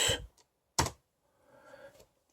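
Typing on a Mac Mini keyboard: a couple of sharp key clicks followed by a short run of softer, quieter keystrokes, close up with no speech.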